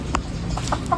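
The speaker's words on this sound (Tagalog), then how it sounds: "Manok ni Kuya Danny" A chicken outdoors gives a few short, moderately close clucks over a steady low background rumble, spread across about a second without any voices.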